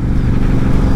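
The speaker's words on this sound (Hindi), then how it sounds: "अभी 60 के जोन 60 पे चल रही है बाइक" A motorcycle rides at about 60 km/h, its engine and exhaust making a loud, steady low rumble mixed with wind noise, close and continuous.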